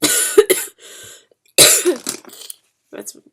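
Several harsh coughs burst out close up, then a throat clears and a few softer coughs and breaths follow after a pause.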